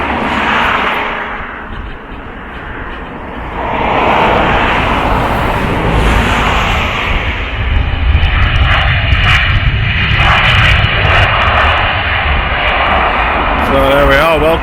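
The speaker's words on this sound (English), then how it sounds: "Just coming into land. And we'll spin round here and we'll see it rushing down the runway." Jet airliner landing and rushing down the runway on return from Tenerife, a broad steady roar of engine and airflow that swells midway and holds loud to the end, heard from outdoors with some talk.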